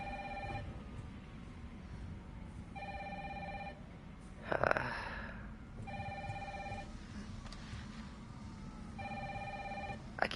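A telephone in Resident Evil 3 Remake keeps ringing, four evenly spaced electronic ring bursts repeating over a low ambient drone, with a brief louder rustling noise between rings.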